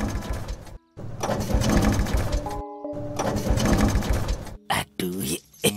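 A cartoon vehicle's engine chugs and rattles in rough bursts, cuts out briefly, revives, then sputters in short uneven coughs as it stalls; no talk.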